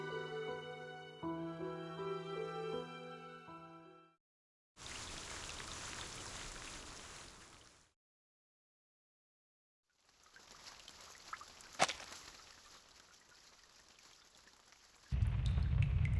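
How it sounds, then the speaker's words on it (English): Rain falls outside in the game Reverse: 1999, a soft, steady hiss of drops that comes in separate stretches after a short musical passage and between gaps of silence. "It's the rain! It's raining outside!"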